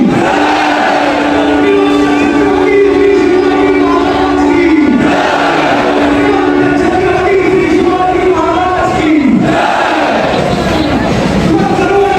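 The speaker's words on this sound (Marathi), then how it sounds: "ट्रेन तर आली आपली जस्ट" A train pulls into a busy Mumbai station during a Ganesh festival procession crowd, its rumble and screeching wheel tones steady and loud, with crowd noise and voices throughout.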